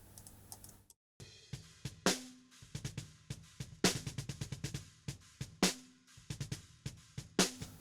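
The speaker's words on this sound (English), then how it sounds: "Snare bottom mic was SM57." Snare drum captured from underneath by an SM57 bottom mic, sharp crisp hits in an uneven groove, with other kit elements bleeding faintly underneath.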